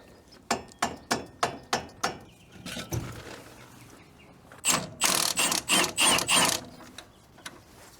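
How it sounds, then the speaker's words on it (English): A ratchet wrench backs out the last coilover bolt on a Toyota FRS fitted with BC Racing DS coilovers. A run of sharp, evenly spaced clicks comes first, then a pause, then a quick loud burst of ratcheting, close up. "So now I'm holding it from below and twisting off the remaining bolt."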